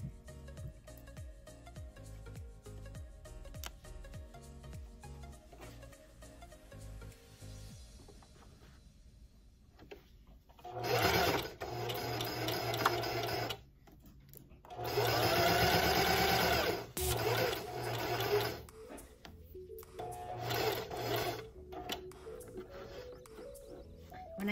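A sewing machine stitches the facing onto an apron, running in several fast bursts with pauses between them, preceded by quieter handling of the machine.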